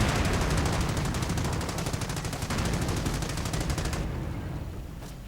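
Dense, continuous battlefield gunfire in the World War II strategy game Company of Heroes, rapid rattling shots and thuds blending into a loud roar that eases after about four seconds, with mortar fire among the shooting.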